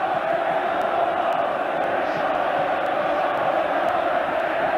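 A large stadium crowd at a Sunderland v Chelsea League Cup semi-final roars and applauds in a steady, dense wash that holds level for the whole stretch, with no single voice standing out.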